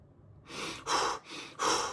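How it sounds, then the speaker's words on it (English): Intense, hard breathing from a person comes in four forceful breaths, alternating harsh inhales and exhales, close and loud with no talking. "Like real intense, hard breathing."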